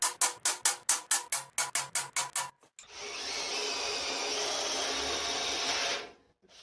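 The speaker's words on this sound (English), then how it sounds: "What's going on with this drill?" A drill bores holes in steel: first a quick series of about a dozen sharp rhythmic grinding bursts, then one sustained high whirring cut lasting a few seconds before stopping.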